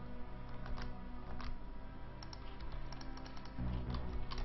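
Rapid, dense clicking of a computer mouse and keyboard being spammed during a StarCraft match, a steady close patter of taps and clicks over low background hum.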